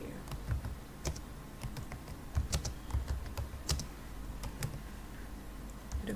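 Typing on a computer keyboard while coding a simple Scratch program: a close, quiet series of irregular key clicks and taps with no talk.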